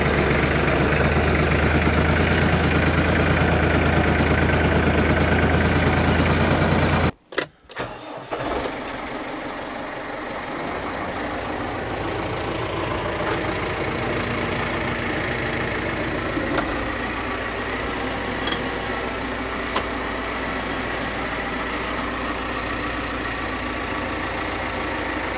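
Vehicle engine running near hay bales, a loud steady idle that abruptly cuts out and drops away, then a quieter, rougher idle resumes and runs on evenly with occasional faint clicks; close by, no talking.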